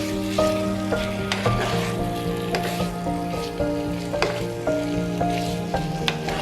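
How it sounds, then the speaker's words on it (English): Pork belly sizzles and fries in a dry skillet over medium-high heat, rendering its own fat as it browns, with a steady crackling hiss and periodic stirring scrapes throughout, close and moderately loud with no talking. "Add the pork belly and cook, stirring until just firm and lightly browned on the edges."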